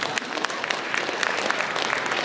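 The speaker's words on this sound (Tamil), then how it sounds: "அவர்களை கைத்தட்டி மேடைக்கு அழைப்போம்." A school audience at a stage event claps continuously and densely, welcoming students onto the stage for a dance performance; the applause is steady and moderately loud, with no talk.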